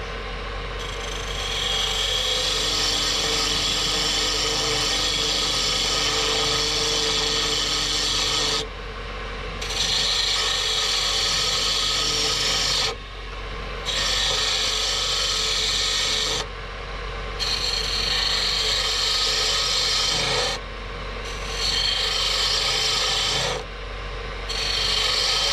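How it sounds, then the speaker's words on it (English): A spindle gouge cuts rosewood spinning on a lathe: a loud, continuous rasping scrape in long passes, broken by several brief pauses as the tool lifts off the wood, with no talking. "while I'm using what's called a spindle gouge."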